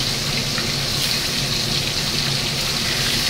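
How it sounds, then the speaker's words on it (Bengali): Fish pieces fry in hot oil, six in the pan, making a loud, dense, steady sizzle that rushes on without pause and sounds almost like running water, with no voices. "সুন্দর ভাজা হচ্ছে"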